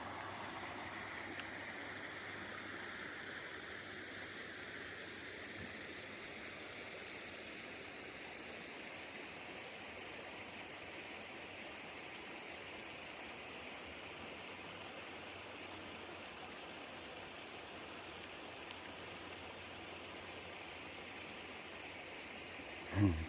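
Steady rushing of stream water beside a campsite on the Appalachian Trail in October, a constant, even flow close by with no voices.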